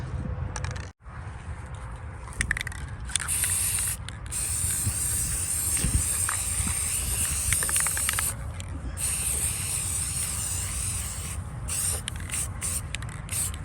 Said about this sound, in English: I'm just going to spray this side right here really quick.